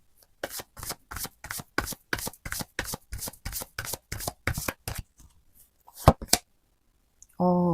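Tarot cards are shuffled in a rapid, even run of about fifteen crisp riffling slaps, followed by a couple of louder taps and a short tonal sound at the end.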